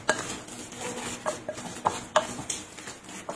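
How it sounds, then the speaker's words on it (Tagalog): Spoon stirring a mix of garlic powder, pepper, seasoning and flour in a bowl, giving a steady scraping swish with several sharp clinks against the bowl at irregular intervals, close and moderately loud. "Haluin lang natin itong mabuti hanggang magsama-sama na lahat ng ating ingredients."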